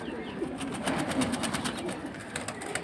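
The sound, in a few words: pigeon cooing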